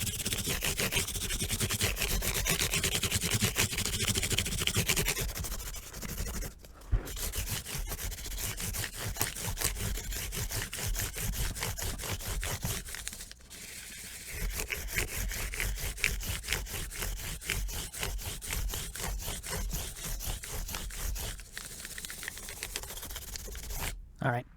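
Acoustic Guild D40 guitar neck sanded by hand with 1200 grit sandpaper, a steady close scratchy rubbing that runs continuously with a few brief pauses.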